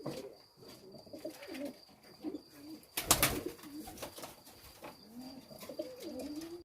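Pigeons coo softly in a loft at evening feeding time while young pigeons are fed, with repeated low rolling coos, small rustles and a brief loud clatter midway.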